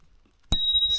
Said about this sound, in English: Spur cycle bell.